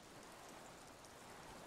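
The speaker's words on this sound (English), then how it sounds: "Oh, it's raining." Steady rain in the video game Disco Elysium hisses evenly throughout, a soft continuous wash of drops with no voices.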